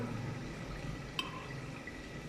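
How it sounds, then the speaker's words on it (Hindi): Beaten eggs poured into a pan for a potato and egg curry, making a soft, steady liquid pour and faint sizzle, with one brief click midway. "अभी मैं अंडे डाल रही हूँ"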